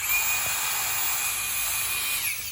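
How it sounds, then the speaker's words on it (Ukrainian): A compact electric air blower runs continuously with a bright, high-pitched whine and airy rush, close and steady for the whole stretch, with a slight pitch shift near the end. "Повітродувка, Nightcore. Дуже класна річ, але втрачає потужність, якщо трошки вже підсажена."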